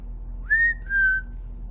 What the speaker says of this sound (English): You're going to have to know how to whistle. Give that a try.